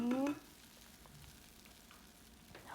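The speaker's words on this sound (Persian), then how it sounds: "اونم تفت میدیم باهاشون اما به مقدار خیلی کم که زرشکمون نسوزه" Barberries sautéed briefly in a pan for a Persian plum stew, giving a loud sizzle at first that quickly drops to a quieter, steady frying hiss.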